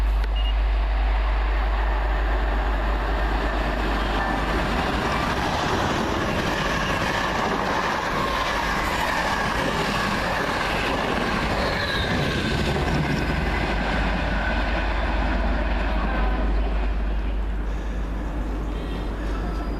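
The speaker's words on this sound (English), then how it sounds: "Coming in now, at any moment should be our train out of here" A train rumbles steadily into platform 2 of a London station, a continuous loud low roar with rail noise and faint squeal, close by, with no talking over it.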